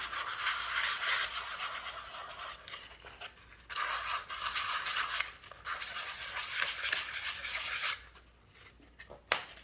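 Sandpaper scrubs in circles across the cover of a passport travelers journal, giving long, close, raspy scratching strokes. The strokes are broken by short pauses and end with a single sharp tap, with no talk.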